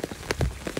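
Rain patters steadily on a surface on a hiking trail out of Duncannon, Pennsylvania, a close, even hiss of drops with no voices.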